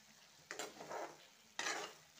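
Chopped ginger and bottle gourd shoots go into a hot pan in two quick additions, each setting off a sharp burst of sizzling that fades into a soft, quiet frying hiss.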